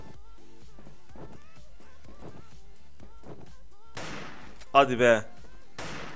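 Gunshots ring out in a 1v1 shooter video game: someone talks over quiet game sounds, then a few loud, sharp bursts of gunfire crack close together near the end.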